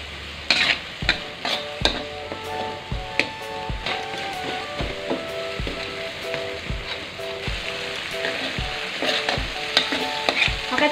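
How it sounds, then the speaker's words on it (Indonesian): Balado spice paste with bay leaves and lemongrass stir-fried in a pan, a steady close sizzle broken by frequent sharp scrapes and knocks of the spatula against the pan throughout, with no talking. "sekarang kita tumis bumbunya sampai benar-benar matang ya teman-teman"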